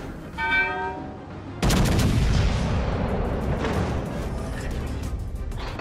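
Naval gunfire from a warship in the video game World of Warships: Legends, a single heavy boom that rolls into a long decaying rumble, preceded by a short electronic tone.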